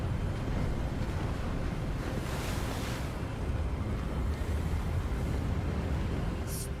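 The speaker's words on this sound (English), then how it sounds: "Oh, that's windy." Strong, gusting wind roars continuously in a Hogwarts video game scene, a loud, full rushing blast that swells slightly midway, with no speech over it.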